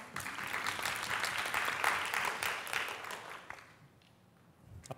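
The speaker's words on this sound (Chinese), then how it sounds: "请帮我们掌声欢迎他" An audience at a civic tech summit breaks into clapping to welcome a speaker, a dense burst of many hands that swells, then thins and fades out toward the end.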